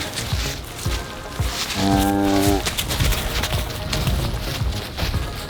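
A farm cow stays close to her calf and lets out one drawn-out moo in the middle, loud and near, amid shuffling hooves and rustling movement on a homestead.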